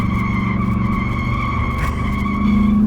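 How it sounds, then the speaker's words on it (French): Long, steady tire squeal from a Chevrolet SSR, loud and close, holding as a sustained tonal screech with engine noise underneath throughout. "Le plus long crissement de pneus de l'histoire des crissements de pneus."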